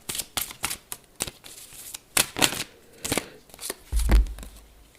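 A deck of tarot cards is shuffled and drawn, making a series of sharp, close riffling and flicking bursts in an irregular rhythm, ending with a soft low thump.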